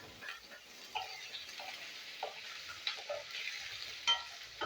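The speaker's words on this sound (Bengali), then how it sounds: "এই একই তেলে একটু আলু ভাজবো" Potatoes fry in mustard oil left over from frying vadis, a soft steady sizzle with occasional stirring scrapes and small clicks, fairly quiet and close with no talk.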